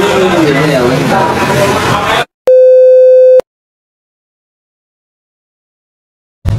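Telephone busy signal heard on a call to a call center about a phone left in a GoCar: a single steady tone held for about a second after a burst of loud chatter and background noise, then silence.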